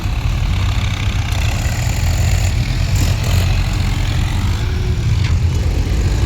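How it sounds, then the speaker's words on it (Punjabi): A tractor and a JCB excavator work a flood-damaged farm field, their engines making a steady, loud low rumble that drones on without a break. "ਆਹ ਵੇਖੋ ਵੇਖੋ ਟਰੈਕਟਰ ਲੱਗਿਆ ਜੀਸੀਬੀ ਆਰ ਕੋ ਟਰੈਕਟਰ ਆ"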